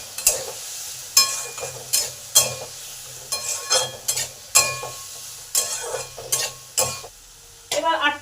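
Potatoes being stirred in a hot pan with salt and turmeric, a spoon scraping in short repeated bursts over a faint sizzle, close by with no talking.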